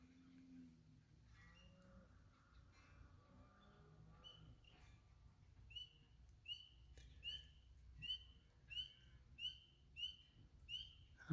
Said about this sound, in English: Some bird calling.